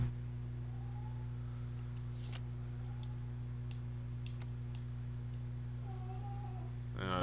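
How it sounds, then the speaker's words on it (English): A pet cat whines and meows in short, faint calls spread across a steady hum, with a few light clicks and ticks as it plays with a hair tie; no one speaks. "there's my cat whining like ever"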